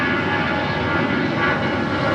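An airplane takes off from runway 25 right at LAX, a loud continuous roar of aircraft engines holding steady and close throughout.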